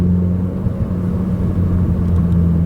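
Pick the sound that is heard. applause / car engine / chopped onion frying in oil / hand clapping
car engine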